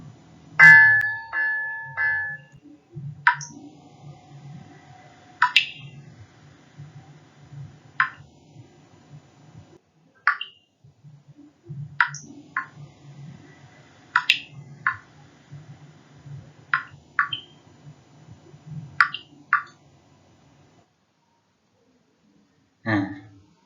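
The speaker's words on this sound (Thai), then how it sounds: "เสียงเมื่อสักครู่นะครับ คือเสียงน้ำหยดจากก๊อกนะครับ" Sharp, bright drops of water fall from a faucet one at a time at irregular intervals over a low background murmur.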